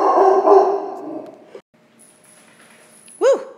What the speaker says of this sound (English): Sorry, my dog barked.